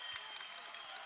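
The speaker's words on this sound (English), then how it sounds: "the crowd making some noise" Basketball crowd at a college game between NMSU and LMU late in a tied contest, a steady wash of cheering and applause filling the arena at moderate distance, with no break in the noise.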